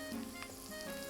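Butter sizzling in a pan after onions, a short, steady crackling fry with a few brief pops, close and fairly quiet.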